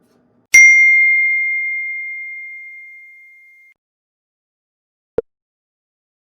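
An Amazon Alexa smart speaker gives a single clear chime that rings out for about three seconds before fading, followed by silence and one brief soft knock.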